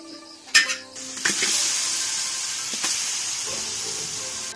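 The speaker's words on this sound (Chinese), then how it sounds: "锅热之后把鸡肉放锅里，给它煸干了再放油" Chicken pieces dry-frying in a hot wok without oil make a sharp clatter as they go in, followed by a steady loud hiss and sizzle with occasional clanks of stirring.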